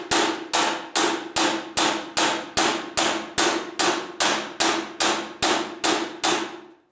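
A hammer beats dents out of the sheet-metal body of a Ram pickup truck that was hit hard, about fourteen loud, evenly spaced metallic strikes, each ringing briefly before the next, close up with no talking.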